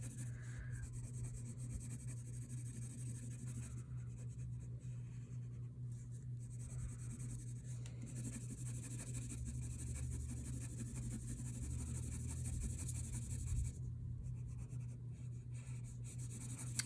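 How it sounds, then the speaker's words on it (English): A pencil shades a large area on paper, a continuous soft scratchy rubbing that goes on steadily for many seconds, close up, over a low background hum. "you could even try using the side of your pencil to cover a little more area more quickly"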